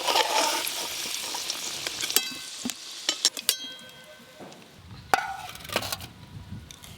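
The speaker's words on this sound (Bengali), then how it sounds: "আলুগুলো বেশ ভালো করে ভাজা ভাজা হয়ে গেছে," Potatoes fry in hot oil over a rustic clay stove, giving a loud, bright sizzle. Sharp metallic clinks and scrapes follow as they are stirred and lifted out, and the sizzle fades between bursts.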